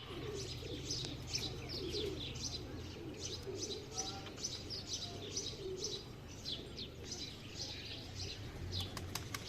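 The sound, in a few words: pigeons cooing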